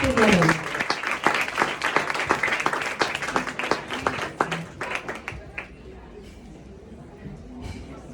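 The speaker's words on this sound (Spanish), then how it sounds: "Les vamos a dar un fuerte aplauso" A seated audience at an evening discussion event claps loudly and steadily, the crisp individual claps packed close together before thinning into scattered hands and fading over the last few seconds.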